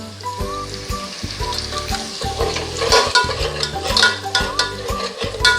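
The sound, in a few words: ginger garlic coconut paste with asafoetida sautéing in pan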